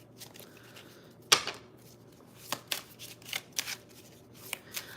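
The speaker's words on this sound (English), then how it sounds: "We're going to pull a couple more cards. We're going to shuffle." Tarot cards are shuffled close by in a series of crisp riffling bursts, one sharp loud snap followed by several quicker flutters spread across a quiet background.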